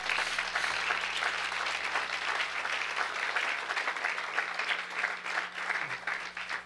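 Church congregation applauding during a sermon, a continuous wash of many hands clapping at moderate level, steady from start to finish without speech.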